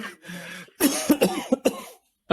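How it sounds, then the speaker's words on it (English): A man coughs in a rapid, harsh burst of several close, loud coughs. A short clearing sound comes first, and a final cough follows after a brief pause. "I was trying not to cough, but it caught up to me."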